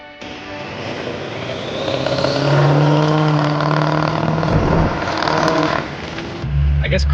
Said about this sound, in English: when you're just driving around revving your truck